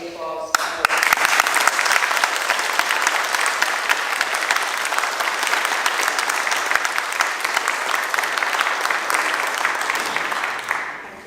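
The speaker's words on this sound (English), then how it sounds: "so I'd just like you all to join me in the applause." Council members and attendees at a Wakefield Council meeting applaud together, a long, even round of clapping that carries on for about ten seconds before stopping abruptly.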